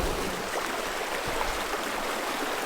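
A backyard brook in the woods pours over small rock falls near a cottage, making a steady, full rush of water that stays even and close throughout, with no voices.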